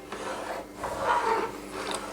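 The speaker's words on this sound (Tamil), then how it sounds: "அடி பிடிக்காத மேலே லேசாக வந்து நடுவில் கிண்டி மட்டும் விட்டுக்கிட்டே இருப்போம்." A spoon is stirred through fish biryani rice and water in a pot over high heat. Soft, steady scraping and rubbing runs for about two seconds, close by, with no talking.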